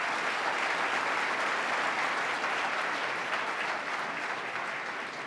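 An audience at a state address applauds two hockey players, a steady wash of many hands clapping in a large hall, loud and even throughout with no voices over it.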